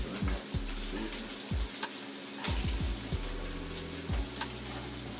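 Ground beef, noodles and vegetables sizzle softly in a pan while being stirred, with a steady fry hiss and repeated low scraping knocks of the utensil against the pan.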